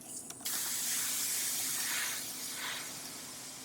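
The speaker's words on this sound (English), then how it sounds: "When I add a shadow to an edge like this, I spray it into the edge." An airbrush sprays paint onto the edge of a 1/4 scale Wolverine figure, giving a steady, close, soft hiss that starts abruptly and holds for a few seconds.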